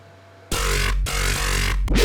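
Dubstep drop hits from a remix built in Ableton blast in loud, dense bursts after a brief quiet lead-in, with short gaps between heavy bass-laden hits and a high wobbling tone riding on top.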